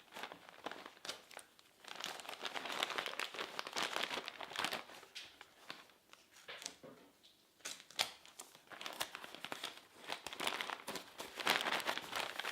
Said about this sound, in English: So go ahead and flip it over and just add a couple strips of tape.